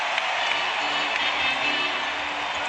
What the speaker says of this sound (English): Standing ovation from this crowd.